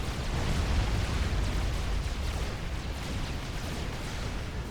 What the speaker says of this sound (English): these artillery pieces here from Alexander can shoot down, killing